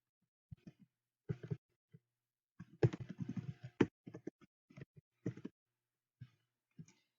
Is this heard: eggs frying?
no